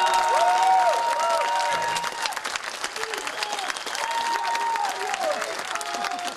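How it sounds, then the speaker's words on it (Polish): Sustained applause from a concert audience for the musicians of a symphonic blues show, loud and dense at first, then settling into steady clapping with some scattered cheers. "należą się wielkie, wielkie brawa dla tych wszystkich muzyków"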